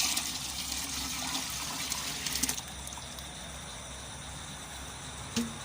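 A liquid organic fertilizer mixture made with meat-based ingredients is stirred, giving a steady watery swishing and trickling wash that softens midway, with a brief clink near the end and no talking.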